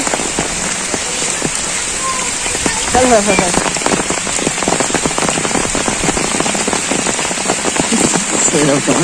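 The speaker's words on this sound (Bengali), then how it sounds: "এত বৃষ্টি হচ্ছে" Loud rain pelts a nearby surface with sharp, irregular spatters and drips, growing heavier partway through as a person talks over it.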